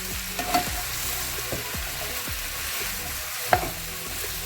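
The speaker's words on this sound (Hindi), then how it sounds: "अब हम इसके अंदर शिमला मिर्च जो हमने काट के रखी थी वो ऐड कर लेते हैं। और इसको अच्छी तरीके से मिक्स करते हैं।" Chopped bell peppers stirred into chicken frying in a pan, a steady sizzle with a series of scraping stirs and one sharper clack of the utensil.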